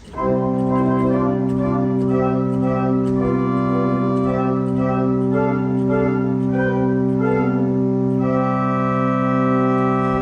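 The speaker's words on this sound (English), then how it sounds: "The open diapason 1 sounds like this." Three-manual pipe organ in Leeds, UK, playing an open diapason 1 stop, full sustained chords held steadily and changing slowly, with no voices present.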